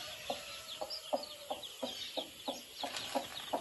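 A hen clucks among her newly hatched chicks on a farm, giving about ten soft, evenly spaced clucks over a steady bed of high, faint peeping.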